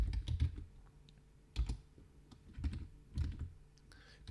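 Computer keyboard typing in irregular bursts of quick keystrokes, close and clear, with short pauses between runs while entering code.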